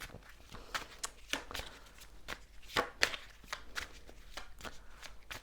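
Tarot cards being shuffled by hand, a run of crisp riffling and slapping bursts close up, irregular in rhythm, with no talk.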